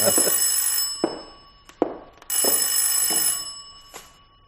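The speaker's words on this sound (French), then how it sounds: "C'est Madame Claudier qui téléphone, monsieur le commissaire" An old telephone rings in loud, repeated bursts with short gaps between them, bright and close, with no voices over it.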